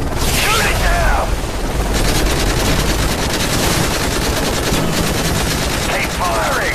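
Weapons fire in a Modern Warfare 3 cutscene: a loud sustained barrage of rapid gunfire with booming hits and whooshes, dense and continuous throughout.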